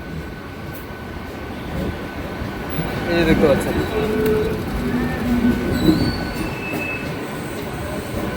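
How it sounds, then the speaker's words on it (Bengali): A local train on the Shantipur line rolls slowly through an open level crossing, its wheels squealing and rumbling steadily up close, while someone talks over it. "গেটটা কিন্তু পার করার জন্যই কিন্তু স্লো স্লো গতিতে যায় ট্রেন এখান থেকে"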